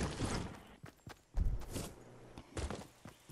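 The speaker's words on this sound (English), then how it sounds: "A horse, a horse!" Hooves clip-clopping in a horse sound effect, a few irregular hoof thuds and knocks in bursts, fairly close and alone.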